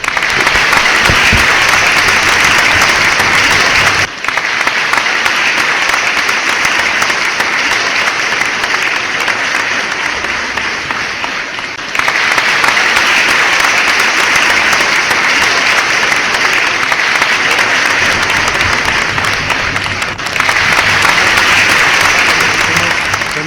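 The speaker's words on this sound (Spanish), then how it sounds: "Un aplauso para Fidel y la revolución cubana, compañeros" A gathering of comrades breaks into sustained, loud applause for Fidel and the Cuban revolution, thick crowd clapping that continues for over twenty seconds with brief dips in intensity.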